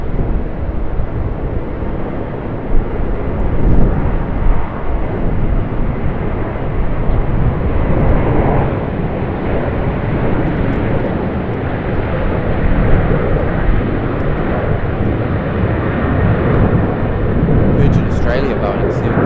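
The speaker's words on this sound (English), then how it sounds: "Boeing 737-800 just heading off the runway there. Not off the runway, but taking off." A Boeing 737-800 takes off from Sydney Airport, its jet engines roaring in a broad, sustained wash of noise that swells and holds throughout.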